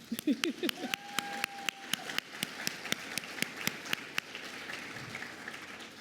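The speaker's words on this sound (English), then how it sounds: "yes, clap for Mom." A small crowd at an awards gala claps, loud at first and then thinning to scattered sharp individual claps, with a brief cheer near the start.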